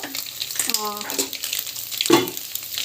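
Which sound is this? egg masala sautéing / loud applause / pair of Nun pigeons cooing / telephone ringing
egg masala sautéing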